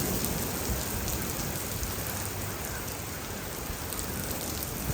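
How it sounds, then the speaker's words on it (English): Steady rain pours down, a dense, even hiss of drops hitting surfaces that holds constant throughout with no voices. "it's really starting to rain now"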